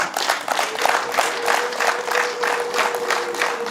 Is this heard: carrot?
no